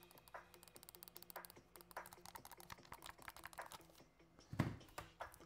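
Rapid, light plastic clicking of a game controller's mouse-click triggers, irregular and close, like buttons being pressed repeatedly, with one louder tap near the end.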